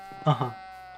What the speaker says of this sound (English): the regular Minecraft sheep are around here too